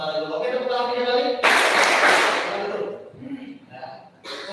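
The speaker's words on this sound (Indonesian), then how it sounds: "Oke, tepuk tangan tiga kali." Students at a leadership camp break into a brief burst of group hand clapping after a spoken line, loud and dense for about a second, then talk resumes with a sharp clap-like hit at the end.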